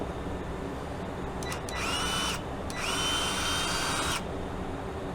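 A small cordless grease gun motor whirs steadily at its lowest speed in two bursts of a second or two each, separated by a short pause, over a quiet background hiss.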